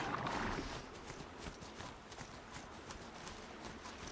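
A machine steed runs in the video game Horizon Zero Dawn, its hooves clopping in a steady, quick rhythm at moderate volume after a brief louder burst at the start.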